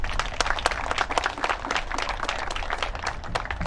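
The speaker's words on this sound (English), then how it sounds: "Please give Ria a hand of applause." Audience applause for an honoree at a W.E.B. Du Bois induction ceremony, a steady dense patter of many hands clapping at moderate level for almost four seconds with no talk over it.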